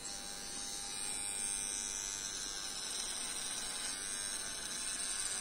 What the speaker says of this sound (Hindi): मतलब कि जब आप ये ट्रिमर यूज़ करते हैं तो ऐसे फील होता है कि जैसे आपने शेव ही कराई है